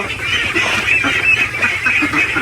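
A flock of ducks, around four months old, quack and honk continuously at close range on a duck farm, overlapping nasal calls with no speech.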